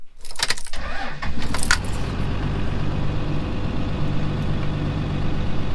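Keys rattle briefly at close range, then a car engine tuned toward 600 horsepower cranks and catches. It settles into a loud, steady, rumbling idle ahead of a test drive, with no one talking.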